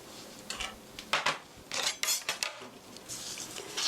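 Metal utensils clink and scrape against a pan while glass noodle japchae is tossed, a handful of sharp clattering bursts spaced irregularly at close range with no talking.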